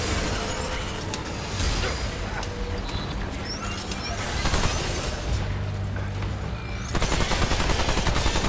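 Sustained gunfire and heavy booms in the video game Remnant 2 fill the whole stretch, loud and dense with bursts of shots, growing harsher near the end.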